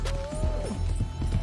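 Horse hooves clip-clop in a steady rhythmic trot in Red Dead Online, the beats close and clear over a constant game ambience with a sustained tone.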